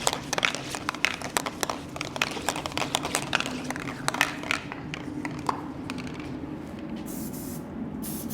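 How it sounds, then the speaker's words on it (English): A spray can of SEM black coating mists in short sputtering bursts with crackly hiss, followed by a softer, steadier spray toward the end. "I'm kind of just like misting it on there."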